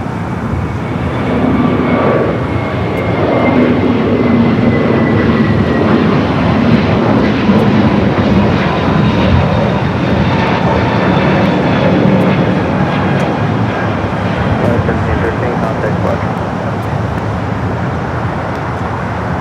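Passenger airplane flying over near LAX, a loud sustained engine roar with a gliding whine that slowly falls in pitch as it passes, close and steady throughout with no voices.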